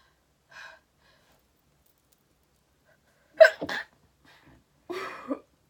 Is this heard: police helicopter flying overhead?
no